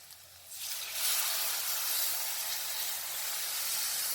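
Tamarind water is poured into a pan of hot fish curry masala: after a quiet moment, a loud steam-like hiss and sizzle erupts and holds steady until the end.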